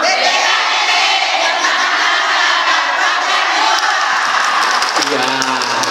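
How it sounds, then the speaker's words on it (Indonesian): A studio audience at an Indonesian Islamic variety show claps and cheers loudly and steadily for six seconds, a dense roar of hands and voices, with the crowd noise thinning slightly near the end. "Tepuk tangan."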